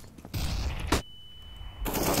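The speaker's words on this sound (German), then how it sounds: "Das war ein Schuss." Bursts of gunfire crackle from the video game CS:GO in quick succession during a matchmaking match, with a brief high electronic tone between them.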